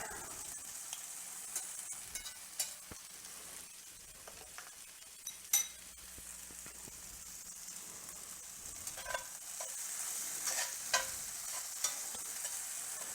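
Freeze-dried potatoes cook in butter in a pan, a quiet steady sizzle broken by occasional clinks and scrapes of a utensil stirring, no voices.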